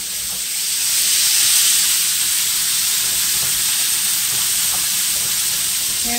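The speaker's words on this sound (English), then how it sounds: "That's good sizzle." Burger patties sizzle loudly in a hot skillet, a dense continuous hiss that swells then holds steady, with no talk.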